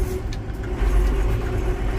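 A John Deere 7420 tractor driving on a road in a faster gear, its engine giving a steady close low rumble with a constant drone, no voices.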